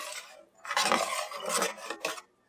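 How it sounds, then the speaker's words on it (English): A utensil scrapes the sides of a pot while deglazing caramelized bits, making several close, raspy scraping strokes with short pauses, alone without talk. "So scraping down the sides."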